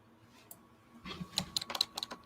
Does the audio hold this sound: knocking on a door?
no